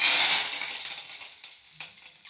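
Asafoetida and curry leaves dropped into hot oil with mustard seeds, a sharp burst of hissing sizzle at the start that gradually fades to a quieter crackle, with a small clink near the end.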